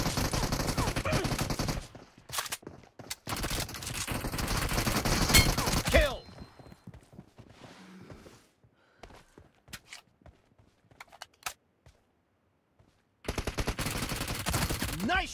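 PUBG Mobile gunfire: dense, loud stretches of rapid shots broken by quiet gaps and scattered sharp single cracks, with footstep-like clicks in between.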